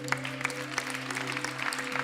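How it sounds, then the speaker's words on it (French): A church congregation at an Easter service claps, sparse clapping over a sustained droning organ or keyboard chord, moderately quiet and fairly close. "Est-ce qu'on peut applaudir Jésus ce matin?"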